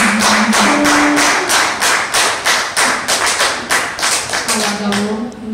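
A church congregation applauds with loud, rhythmic clapping, sharp regular claps that go on throughout, while a voice carries on over them.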